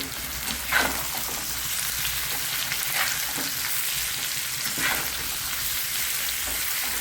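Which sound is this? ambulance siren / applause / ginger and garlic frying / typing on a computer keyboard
ginger and garlic frying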